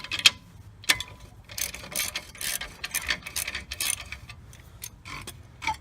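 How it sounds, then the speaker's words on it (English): A hand ratchet works on the brake bolts of a 1998 GMC Sierra, giving sharp clicking bursts and intermittent ratcheting strokes, close and fairly loud, with small metallic knocks between. "I'm gonna be able to find my ratchet"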